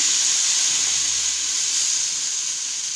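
Local-style pancakes sizzling in a pan, a steady bright hiss and frying crackle that stays even throughout, close up, with no talking.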